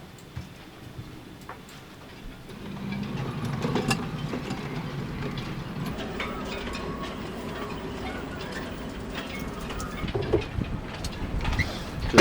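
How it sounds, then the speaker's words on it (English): Engine crane being manoeuvred into position in a boat's engine hold while fitting an old marine diesel, giving a continuous rumbling, clanking mechanical rattle with faint ticks, close and moderately loud throughout. "Just trying to manoeuvre the engine crane to a suitable position, but it's difficult."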